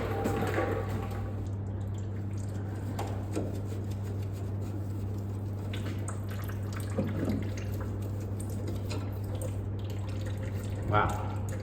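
Power steering fluid draining from a BMW E36 steering rack, heard as faint intermittent drips and small liquid trickles over a steady low hum of the workspace, with occasional handling noises.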